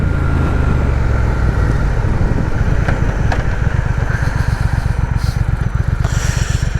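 Triumph Thruxton RS motorcycle engine ridden in sport mode, a loud, close, steady pulsing exhaust drone at constant revs throughout, with no talking.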